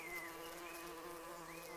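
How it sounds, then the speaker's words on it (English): A bee's steady, close buzz with a wavering drone that holds on without a break, loud and alone with no voices present. "And the only reason for making a buzzing noise that I know of is because you're a bee."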